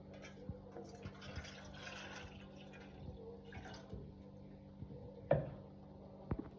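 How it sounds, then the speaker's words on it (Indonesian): Water is poured into a cooking pot on a stove set to a low flame. The quiet, continuous trickle has a few soft drips and small knocks, with a steady low hum underneath. "Terus lalu masukkan airnya secukupnya"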